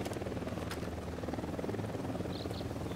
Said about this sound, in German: Ich glaube, da kommen die in einem Heli.